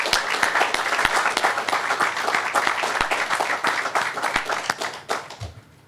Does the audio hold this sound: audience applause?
yes